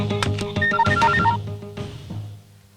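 A telephone rings out in a loud, close electronic tone, a rapid melodic ringtone pattern repeating before fading away.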